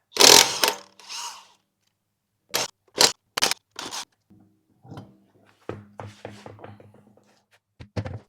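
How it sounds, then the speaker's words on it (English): Lug nuts being loosened with a 19mm socket on the rear wheel of a 2013-2019 Ford Escape, heard as a series of sharp, close mechanical bursts and scraping clicks separated by short pauses. "It's going to take a 19mm socket to get the lugs off."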